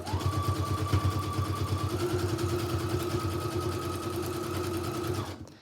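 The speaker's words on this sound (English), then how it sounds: "I'm going to sew at the top." A sewing machine stitches across the top of collage snippet rolls, running in one close, steady, rapid mechanical chatter for about five seconds. Its pitch shifts partway through, and the run stops with a brief clunk.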